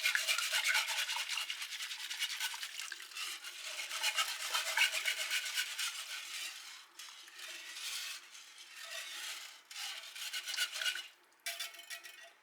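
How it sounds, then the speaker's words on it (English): A whisk stirs soup into liquid in a metal pot for a cheesy broccoli and rice casserole, giving a close, continuous brisk scraping and swishing with a steady rhythm that breaks into shorter strokes near the end, with no voices. "You can use a whisk to really get that soup kind of broken up and incorporated into the liquid."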